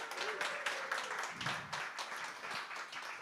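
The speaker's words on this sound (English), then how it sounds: "round of applause for Jason" Audience applause at a startup pitch night finale, a sustained burst of clapping from a crowd with scattered voices and a brief tonal sound in the background.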